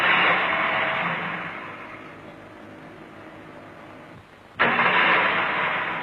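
A car engine on a test bench, fitted with flywheel ring gears, runs loudly, slows and stops briefly, then fires straight back into a steady roar, part of a repeated stop-and-start endurance cycle.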